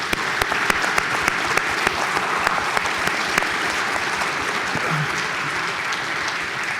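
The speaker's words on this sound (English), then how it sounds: "let's all give Attorney General Bob Ferguson a round of applause and welcome to the stage" Loud, sustained audience applause fills a keynote hall as the Attorney General is welcomed to the stage, many hands clapping evenly throughout with no voices heard.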